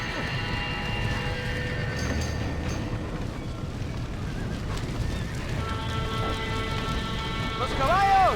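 Horses in the Western video game Red Dead Redemption neigh and thud past in a steady gallop of hoof clops, with a sharp whinny near the end, all set against a busy game soundtrack.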